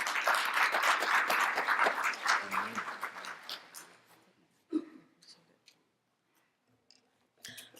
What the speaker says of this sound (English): Let's give Dr. Lee a round of applause as she comes.